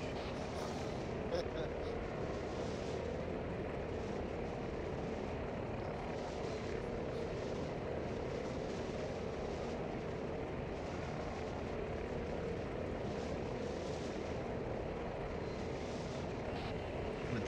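An aircraft engine drones continuously in a military video game training session, a steady, dense hum under occasional radio chatter.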